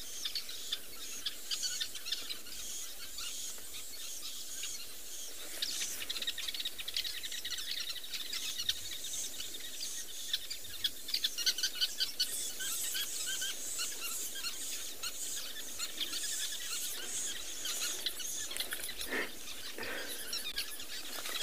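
Birds call and chirp steadily across a sunset safari landscape in dry South African bushland, a dense layer of high twittering with occasional sharper notes over a faint, continuous ambient hiss, with no voices.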